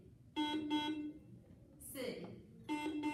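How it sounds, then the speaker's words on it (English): Quiz bowl buzzers are tested in turn. Two short, steady electronic beeps sound early, a brief swooping tone comes in the middle, and a third beep follows. The tones are clear and close against a quiet room. "that's the official testing of the buzzers"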